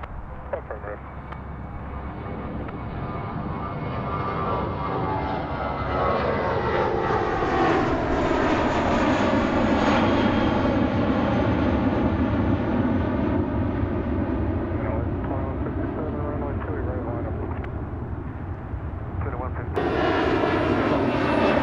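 A powerful jet airliner departs runway 28R at Fort Lauderdale airport, its engine roar building to a loud peak as it passes and then slowly fading into the distance, with faint talk at times.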